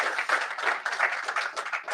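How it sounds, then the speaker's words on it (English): A brief round of clapping from an event audience for a speaker named Rudy, dense and steady for under two seconds with no voices over it. "let's give a round of applause to Rudy"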